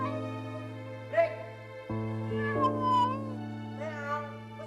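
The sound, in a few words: cat meowing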